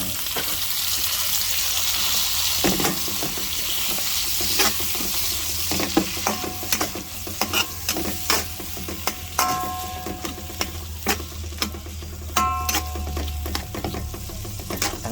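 Steady sizzling of vegetables stir-frying in a wok for fried rice, with repeated scraping and clanking of a utensil against the pan, close and continuous.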